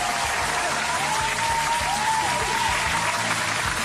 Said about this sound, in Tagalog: palakpakan na may kasamang sigawan